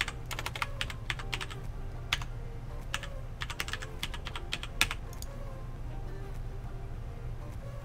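Quick, light keystrokes tap on a computer keyboard to sign into an account, clattering in short irregular runs close by over a low steady hum, with no one speaking.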